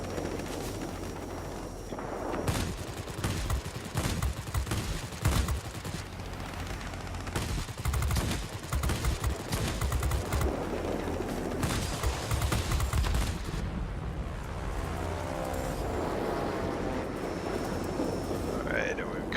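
World of Warplanes aerial combat with Hurricane fighters: bursts of rapid machine-gun fire rattle over a steady aircraft engine drone, with short pauses between volleys.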